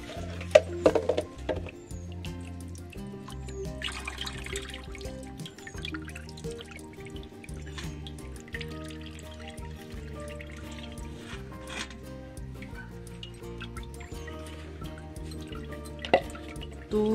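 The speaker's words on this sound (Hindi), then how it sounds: "उससे आप लोग ऐसे ये लिक्विड छान ले सकते हैं" Homemade liquid fertilizer dripping through a coarse potato-sack net strainer, soft scattered drips and plops under steady background music, faint and close.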